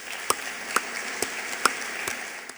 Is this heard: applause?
yes